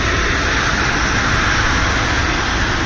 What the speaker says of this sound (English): Sorry for the train coming through.